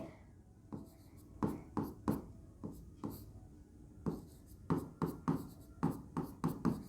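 Chalk or marker strokes writing on a classroom board during a chemistry lesson on mixtures, sounding as short scratchy bursts in irregular clusters, close and fairly quiet, with no talking.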